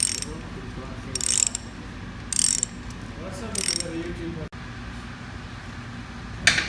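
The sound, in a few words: tightening bolts on pump bearing power frame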